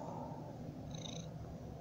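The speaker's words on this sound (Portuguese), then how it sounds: "Eu sou o gato" A cat purrs softly and steadily up close, a low rumbling drone that stays even for the whole stretch with no talking over it.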